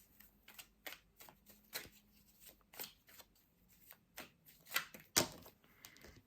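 Tarot cards shuffled by hand in a quick, uneven series of papery riffles and slaps, close and fairly soft, ending with one sharper burst near the end and no talking.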